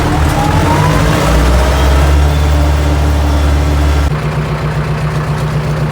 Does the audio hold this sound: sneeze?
no